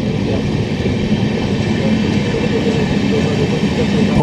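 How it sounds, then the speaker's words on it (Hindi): A Rajdhani Express train slowly overtaking the Bhubaneswar Rajdhani Express, heard as a steady loud rumble of rolling wheels and carriage noise from on board, continuous throughout with no talking. "यहाँ पर हमने ओवरटेक कर रहे हैं भुवनेश्वर राजधानी एक्सप्रेस को।"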